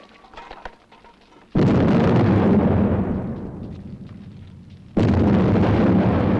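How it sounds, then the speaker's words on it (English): Dynamite sticks go off in two heavy, booming blasts a few seconds apart in a mine setting. Each detonation hits suddenly and loudly, and the first blast's roar decays slowly before the second one lands. "Ready for an explosion!"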